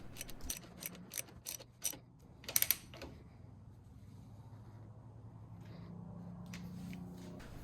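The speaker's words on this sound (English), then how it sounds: "I'm just going to gently snug it with the ratchet." A ratchet snugs down the cap on a Harley-Davidson Shovelhead engine, with a quick run of sharp clicks early on and a short burst of louder ratcheting, then a quieter low hum fills the rest.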